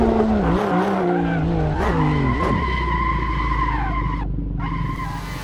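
A racing-game car skids while braking with one wheel on the grass: a loud, sustained tire squeal over engine drone, its pitch wavering and bending before a steady screech that slowly fades.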